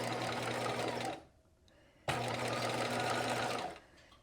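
A sewing machine stitches clear elastic into a knit top in two loud, steady runs of rapid mechanical whirring close by, separated by a brief quiet pause of about a second, with no speech.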